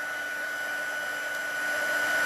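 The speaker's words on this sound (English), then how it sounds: "So this is a heat tool, if you've not seen it before," An embossing heat tool blows hot air over stamped cardstock, a steady, close whirring roar like a hair dryer that holds constant and grows slightly louder toward the end.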